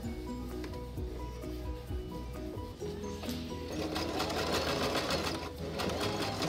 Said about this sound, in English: We're actually going to sew that in position on the folded side.